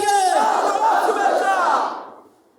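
A rally crowd outside a town hall roars back a Takbir slogan in unison, a loud massed chant of many voices that carries for nearly two seconds before cutting off abruptly into silence.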